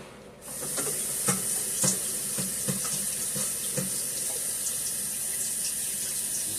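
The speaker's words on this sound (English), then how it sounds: "I'll rinse my broccoli off real good" A kitchen tap runs steadily into a sink as fresh broccoli is rinsed under it, the continuous hiss of water broken by splashes and soft knocks as the florets are moved around.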